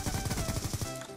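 Peacekeeper submachine gun from the Black Ops 2 Revolution DLC fires a sustained rapid burst, close and loud, in a steady rhythm of shots for about a second before cutting off.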